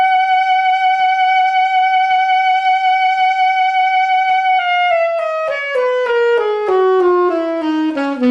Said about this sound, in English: So if I was going to play this very metronomic, it would sound like this.